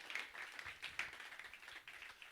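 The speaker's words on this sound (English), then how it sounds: "Big round of applause, please, for Jen and for Trevor." Audience applause at a Virgin Galactic spacewear unveiling event, a steady, fairly faint patter of many hands clapping that holds evenly throughout with no voices over it.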